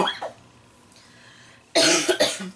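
A couple of sharp, harsh coughs close to the mic after a quiet stretch with a faint breath.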